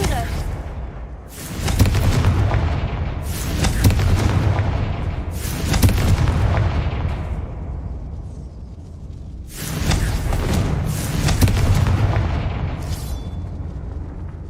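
In the Hogwarts Legacy video game, the Confringo fire spell sets off a string of loud, rumbling explosions, about five bursts that each roll away for a second or two.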